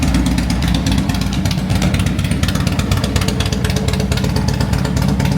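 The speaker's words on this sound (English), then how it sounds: "Yeah, I got the Harley started. KTM." A Harley-Davidson and a KTM motorcycle, not started in a while, running together on a cold morning at home, with a loud, close, steady engine rumble and a dense pulsing throb throughout.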